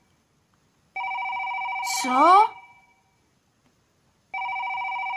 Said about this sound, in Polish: do Werki dzwoni telefon